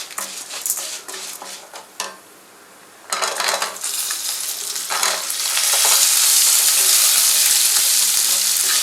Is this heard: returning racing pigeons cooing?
no